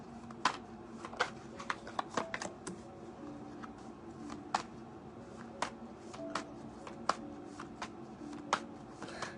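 Tarot cards being shuffled and handled, giving a run of sharp, irregular snaps and flicks, close and moderately loud, with no talk over them.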